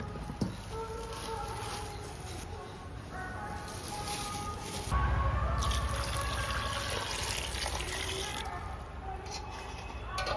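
Tap water running steadily while fruit is washed in a home kitchen, a continuous splashing trickle with shifting patter, and a voice speaks partway through.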